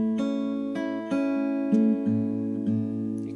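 Guitar plays a riff quickly with a swing rhythm, a handful of clear ringing notes and chord tones plucked in succession, close and alone.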